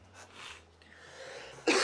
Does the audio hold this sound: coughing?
yes